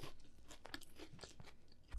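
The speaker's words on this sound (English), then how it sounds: "It's one of the only bars that are kind of like crunchy. It's like a wafer." Crunchy wafer-style protein bar bitten and chewed up close, with a run of brittle crackling crunches at an irregular chewing rhythm, fairly quiet, no talking.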